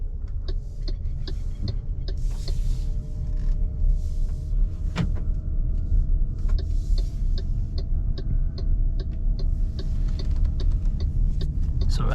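A 2022 MG HS plug-in hybrid pulling away at low speed on its electric motor, heard from inside the cabin as a steady low rumble and faint hum with occasional small clicks and knocks, no engine note.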